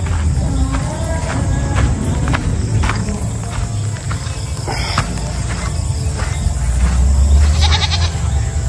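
A goat bleats a few times against a steady outdoor background of rustling and insect-like chirping, fairly close, with no clear talk.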